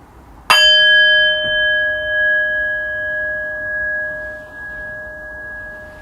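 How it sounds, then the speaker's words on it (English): A meditation bell struck once, a loud bright strike that rings on as a long, steady, shimmering tone slowly fading over several seconds, alone in a quiet room. "in just a moment I will ring the bell once, ending our second round of meditation."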